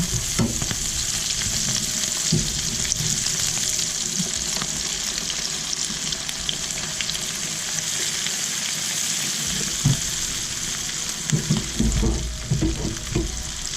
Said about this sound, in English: Okay, let's give it a stir.